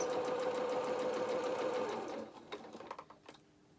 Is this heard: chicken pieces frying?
no